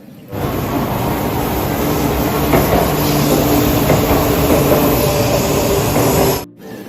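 A toy high-speed train runs with a steady, close, continuous rumbling whir and faint clattering rhythm, holding level for several seconds before cutting off abruptly near the end.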